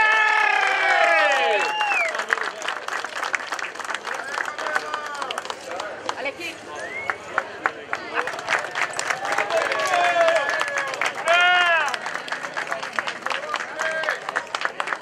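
Applause and cheering for the podium at the 2017 Brazilian Motocross Championship in Charqueada, São Paulo, with scattered claps mixed among voices and other loud, busy outdoor sounds.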